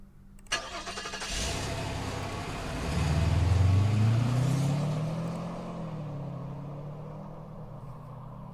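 In the video game Infectonator Survivors, a car engine cranks and catches, swelling into a loud revving roar before settling into a steady idle rumble with no one talking.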